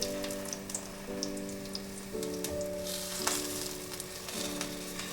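Carrot and cucumber rolls pan-fry in oil, making a steady light sizzle dotted with small spattering pops, while a sustained musical tone plays underneath throughout; no one speaks.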